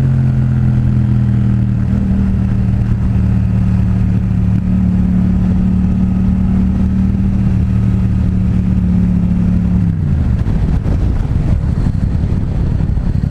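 Yamaha FZ-07 (MT-07) motorcycle, 2016, fitted with a Two Brothers full exhaust, its steady engine drone holding for about ten seconds before dropping into a rougher, throatier note, close and loud with continuous wind rush and no talk.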